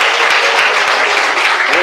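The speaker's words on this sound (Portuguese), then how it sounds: "Palmas de glória a Jesus." Church congregation clapping, a loud dense continuous burst of applause filling the room.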